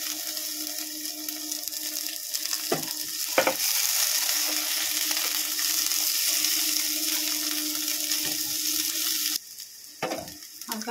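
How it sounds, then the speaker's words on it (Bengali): Chopped ginger and half an onion fry in a pan with a constant loud sizzle, broken by a few clanks of a stirring utensil, and the hiss drops off sharply near the end; no talking. "হালকা করে পেঁয়াজটা ভাজা হয়ে গেছে, আদা পেঁয়াজ।"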